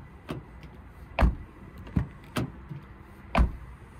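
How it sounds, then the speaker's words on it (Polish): Toyota Yaris 1.5 Hybrid GR Sport 2023 doors being shut, each close a hollow, undamped thud; five separate slams spaced irregularly over a few seconds, fairly close with no talking. "Posłuchajmy dźwięku zamykania drzwi. Tutaj słychać taki pusty dźwięk"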